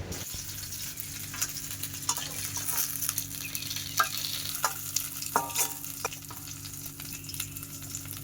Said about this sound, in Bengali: মাছগুলো মা ভালো করে ভাজা করে নিয়েছে মাছগুলো এখন তুলে নেওয়া হচ্ছে